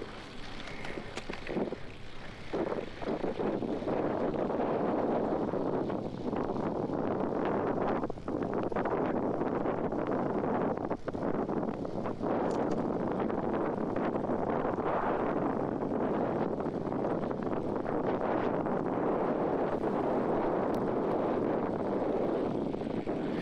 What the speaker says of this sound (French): Vous l'entendez, le lac d'Oron est bien sous le vent, soumis au vent.